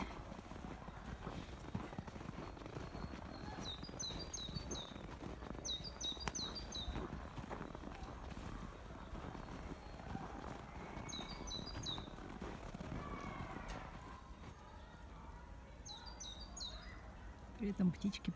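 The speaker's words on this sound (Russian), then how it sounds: "При этом птички поют." Small birds chirp in short bursts in a snowy winter forest after a snowfall, a few distinct call clusters recurring over steady outdoor background noise, with crunching footsteps on snow near the end.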